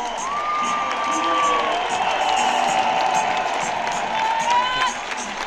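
A stadium crowd roars and cheers at a para athletics world championships, with sustained loud ovation, whistles and shouts from many voices filling the space throughout.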